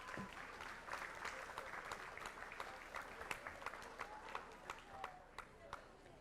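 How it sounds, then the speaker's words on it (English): A board meeting audience applauds a student named Adrian, a moderate round of clapping with distinct individual claps standing out, some talk mixed in, and the clapping gradually tapering. "Let's give Adrian a big round of applause."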